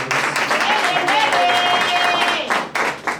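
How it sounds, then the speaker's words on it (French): Applause from those gathered at a communal council election session in Dilala, honouring the two secretaries of the provisional bureau; steady, fairly loud clapping fills the whole span with voices mixed in, thinning toward the end. "On peut les applaudir."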